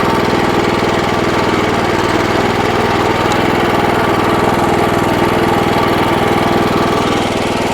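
Rotary mower driven by a Motor Sich engine runs steadily and loud throughout, a close, continuous engine drone with a rough knocking pulse and no speech.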